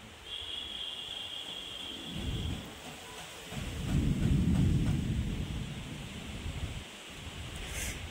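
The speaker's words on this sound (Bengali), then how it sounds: "মেঘও ডাকছে দেখো" Distant thunder rumbles in low rolling swells amid gusty wind and rain on a stormy day, building and fading over several seconds with no voices.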